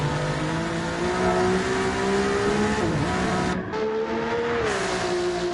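A high-performance race car pulling out of the pits in a racing video game, its engine droning loud and steady throughout, with a brief dip and gear change near the end.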